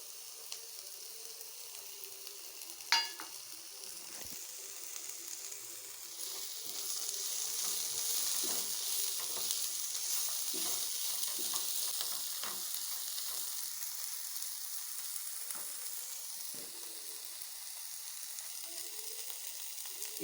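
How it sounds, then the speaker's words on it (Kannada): Green chillies, garlic and ginger fry in a pan alongside softened tomatoes, a continuous faint sizzle that grows after a sharp clink, with occasional stirring scrapes and no talking. "green chillies, garlic, ginger fry ಮಾಡ್ಕೊಂಬಿಡೋಣ"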